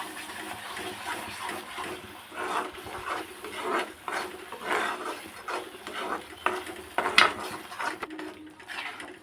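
A spoon scrapes and stirs paneer butter masala in a pan, with repeated soft clinks and scraping strokes at an uneven rhythm, close and fairly quiet.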